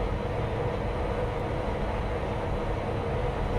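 Class 92 electric locomotive running across London in Train Sim Classic, a dense, steady rail rumble and wheel roar with no breaks, loud and close, no talk.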